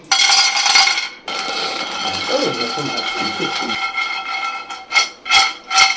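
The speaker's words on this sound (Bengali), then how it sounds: "ওখানে দেখুন প্যান বসিয়ে দিচ্ছি" A metal pan set down on a kitchen stove for roasting cashews, giving clattering metallic knocks and clinks, with several sharp clanks near the end over ongoing kitchen noise.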